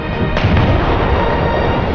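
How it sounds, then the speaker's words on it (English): Tank cannon fire hitting a T-34 in the War Thunder game, a single heavy, loud boom with a long rumbling tail that fills the whole clip, no talk over it. "And what a shot, with damaging the T-34's breech"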